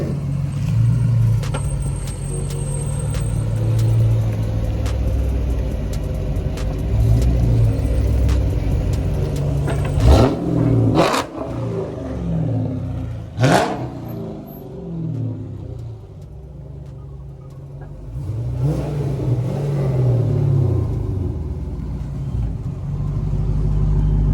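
A 2012 SRT8 engine rumbles at idle with deep low-frequency throb, then blips sharply twice around the middle and once more near the end, each rev rising and falling quickly, close and loud with no talk.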